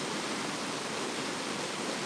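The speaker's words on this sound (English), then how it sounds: "So it's actually a tree that fell and it created a waterfall" Snowmelt water rushes downhill over a small waterfall formed by a fallen tree on a homestead, making a steady, loud, even roar close by with no voices.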